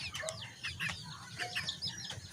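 Hens cluck steadily with high, thin peeps from six chicks scattered throughout, close by and continuous.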